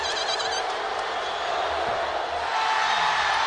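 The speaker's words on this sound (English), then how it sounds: "cheering when someone misses a free throw is racist" Crowd cheering at a basketball game after a missed free throw, a steady broadband roar of many voices that swells slightly toward the end, loud and continuous with scattered whoops.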